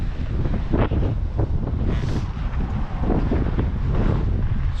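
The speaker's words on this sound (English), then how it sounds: "It is a bit windy today." Strong wind on the North Antrim coast harbour buffets the microphone in a steady, loud low rumble with gusting surges throughout.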